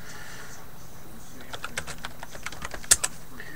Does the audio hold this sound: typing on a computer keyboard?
yes